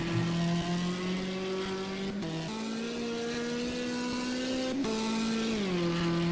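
A Fiat Punto race car climbs a mountain hill climb course at a European championship round, its engine droning steadily near and loud with brief dips at gear shifts as the pitch climbs again.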